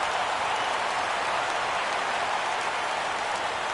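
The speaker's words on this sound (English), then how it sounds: "Crowd gets up for the 3-2." A crowd in a PS4 baseball video game roars steadily as the count runs full, a dense, continuous wash of cheering noise that holds at even volume throughout with no speech over it.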